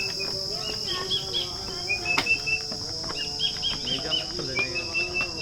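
Small bird chirps come in quick, thin bursts over a steady insect-like hum in the Sundarbans, fairly close, with faint voices in the background.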